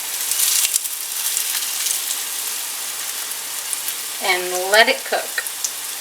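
Chicken schnitzel frying in hot oil in a pan, a steady close sizzle with crackling, briefly under a short spoken remark.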